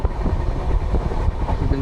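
A train running on rails through foggy green hills, a loud, close, continuous rumble heard from on board with a faint rhythmic rattle.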